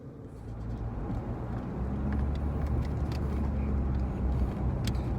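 Cabin view of a VW driving on the road: steady engine and tire rumble that builds slightly after the first two seconds, then holds constant and close with no talking.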